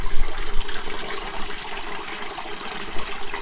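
Water from a mountain spring flows steadily in a broadband wash, close and continuous, with a gentle splashing trickle throughout and no voices.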